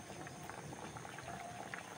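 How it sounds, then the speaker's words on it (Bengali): Fish curry bubbles and boils steadily in a pot, a continuous soft, dense bubbling that stays even throughout, with no voices. "একটু উতলানো হইলে তার মধ্যে মাছ দেওয়া হইব।"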